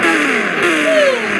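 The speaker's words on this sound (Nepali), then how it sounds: "गाइस म आफ्नो बाइकलाई यहाँ पार्क गरिदिन्छु" A motorbike engine running close by while being parked, a loud steady drone with a slight pitch sweep as it idles and revs briefly.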